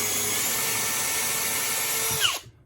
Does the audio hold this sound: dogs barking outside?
no